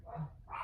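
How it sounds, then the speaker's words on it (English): Two short dog barks, one after the other, muffled and somewhat distant, heard in the background of an indoor room. "I apologize for my dogs in the background."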